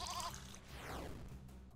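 A single goat bleat in the video game There is no Game, a faint, brief wavering cry at the start followed by a falling sweep.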